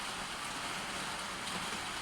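Heavy rain pours steadily onto a roof outside, a dense, even hiss that holds at a constant level throughout with no talk or other sounds.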